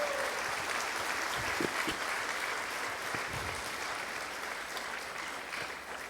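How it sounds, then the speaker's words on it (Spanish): Sustained applause from a church congregation during a Christian sermon, a dense steady wash of clapping that carries on at even loudness throughout. "¿Cuánto le dan aplauso a Cristo Jesús,"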